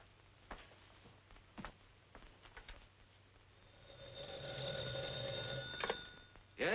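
A telephone bell rings steadily in a quiet room in a 1942 film scene, a sustained metallic trill rising after a few soft thumps and footsteps, moderately loud and close, with no talk over it.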